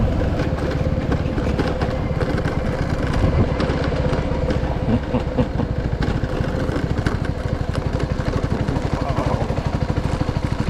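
CFMOTO NK250 motorcycle ridden over a rough, potholed road, a loud close engine drone with a rapid pulsing rumble and jolting thumps from the uneven surface, with no talk.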